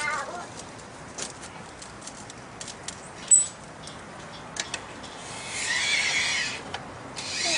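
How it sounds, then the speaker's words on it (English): A handheld glass cutter, freshly oiled, scores a sheet of glass in one brief, faint, gritty scratch near the end, set against quiet room noise. "Show you guys how to cut glass real quick."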